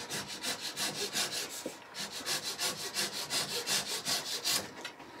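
A hand saw cuts through pieces of timber with a fast, even back-and-forth rasp of strokes, close and steady, with one short pause before the sawing resumes.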